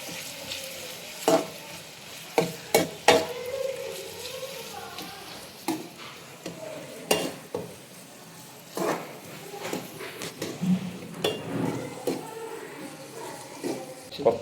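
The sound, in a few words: sautéing curry leaves in a pan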